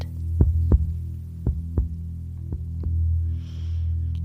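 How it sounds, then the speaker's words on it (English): Heartbeats thump in pairs, a steady double-beat rhythm, over a low constant hum. "listening to our synchronized heartbeats"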